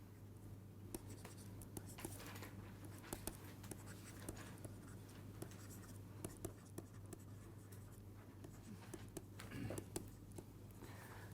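A pen writes on paper during lab work weighing an empty filter paper for environmental sampling: faint, close scratching strokes and small taps go on steadily throughout over a quiet background hum.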